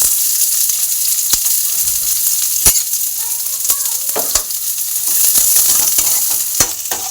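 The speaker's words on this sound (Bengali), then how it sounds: "পেঁয়াজটা একটু লাল করে ভেজে নেব" Chopped onion frying in hot oil in a wok, a loud continuous close sizzle with occasional sharp clinks and stirring scrapes throughout, no voices.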